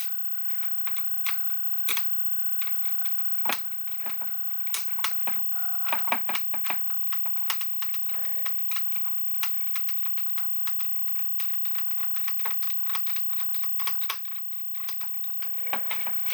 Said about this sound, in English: Looks like we're going to have to take these screws out here and here and open this up